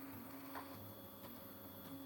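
A 3D printer running a tall print of a Captain America Wakanda shield at reduced speed, giving a steady, quiet mechanical hum with faint stepper-motor tones and small clicks, heard alone without speech.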